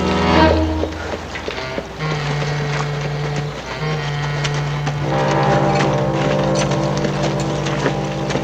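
Cavalry horse hooves clip-clop as a radio drama sound effect, a steady clatter of hoofbeats mixed with background music and sustained tones, without clear talking.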